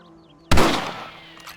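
A rifle gunshot in the Red Dead Redemption video game: one sharp, loud report that cuts through a faint background, then decays over about a second.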